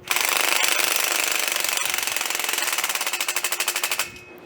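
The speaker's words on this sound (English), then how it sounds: "Now this drill that I'm using here" A power drill drives a bolt during assembly of a portal, a loud rapid mechanical rattle held steadily, turning into a pulsing hammering clatter of impacts near the end before stopping.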